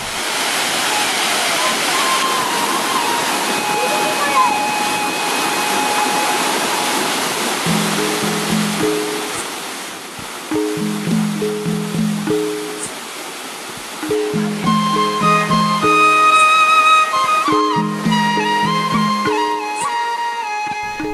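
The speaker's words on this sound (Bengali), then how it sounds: "ঝর্ণার জলের প্রকট আওয়াজ আর জলের রং দেখে তো আমরা মুগ্ধ।" A roaring waterfall in Darjeeling gives a loud, steady broadband rush of falling water that fills the whole clip, with tonal music rising over it in the second half.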